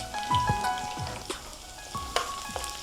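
Tempering spices crackle and sizzle in hot oil for a bitter gourd pachadi, a constant close frying hiss broken by occasional stirring knocks and small pops.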